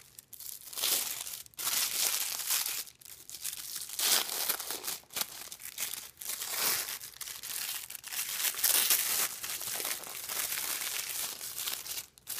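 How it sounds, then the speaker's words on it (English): Tissue paper is pulled and crinkled off a newly unboxed Energy Take Classic surround speaker, a long run of loud, close crackling and tearing rustles in uneven bursts, with brief pauses and no talking. "take the tissue paper off so we can take a closer look at the speaker"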